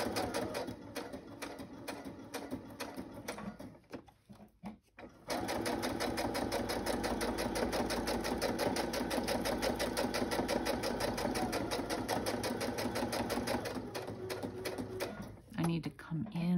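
A sewing machine stitches brown paper bags for a journal, with fast rapid-fire needle clatter running in long bursts, a brief pause and then a steady run close up.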